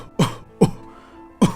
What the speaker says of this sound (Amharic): ከንግግራቸው ሳል የሚያደናቅፋቸው ሽማግሌ።